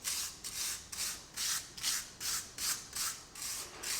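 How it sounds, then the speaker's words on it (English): A wire brush scrubs the wheel hubs of a campervan in steady back-and-forth strokes, about nine even rasping passes, close and moderately quiet with no talking. "I'm just gonna wire brush the hubs"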